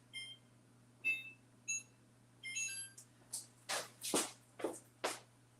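A kitchen timer being set while cooking burgers, a series of short electronic beeps from button presses, followed by several louder broadband taps or clicks close by, with steady hum underneath.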